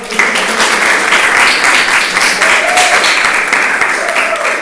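Audience at a lecture applauding a guest, loud continuous clapping from a crowd with faint voices mixed in throughout.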